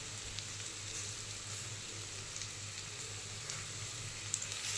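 Chicken fries in a pan on the stove, a steady, even sizzle with fine crackling throughout, no voices over it.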